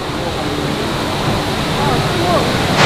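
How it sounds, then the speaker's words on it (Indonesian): An indoor waterfall in the Cloud Forest dome at Gardens by the Bay pours with a loud, constant rushing roar, with people speaking over it. "Dan pemandangan masuk kita disambut dengan air terjun, guys."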